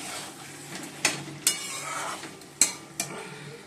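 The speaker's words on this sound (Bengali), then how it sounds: "আর এই যে চিকেনটা কষা হচ্ছে" Chicken sautéing in a pan, with a soft frying sizzle under several sharp scrapes and clinks of a spoon stirring against the metal, close up.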